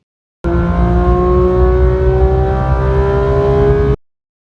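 A car engine revs hard in one sustained, loud burst of about three and a half seconds, rising slightly in pitch, starting and stopping abruptly, with silence before and after.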